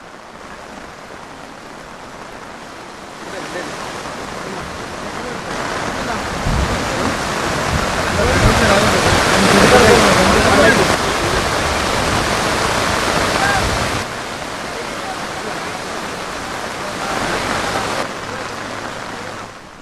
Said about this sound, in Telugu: కామారెడ్డి జిల్లా రాజంపేట మండలంలో భారీ వర్షం ఉంది.